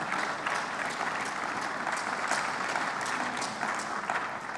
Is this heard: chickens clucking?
no